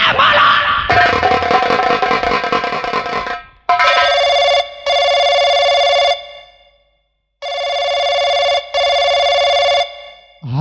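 A telephone ringing while a call is placed to a police station: a loud electronic ring tone repeating in long, even bursts separated by short silences, after a harsh, distorted opening.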